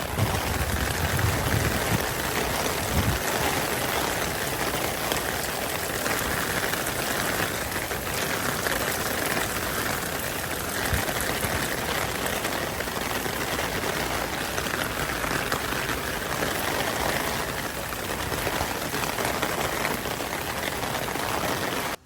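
Steady, heavy rain falls in America and patters on surfaces, a constant unbroken hiss throughout with no voices.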